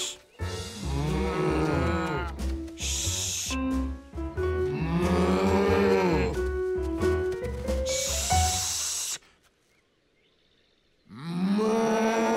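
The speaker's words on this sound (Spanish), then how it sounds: "¿Cómo callar a las vacas?" Cartoon cows moo repeatedly in long, loud, drawn-out calls that overlap one another, with a brief silent pause near the end before another moo begins.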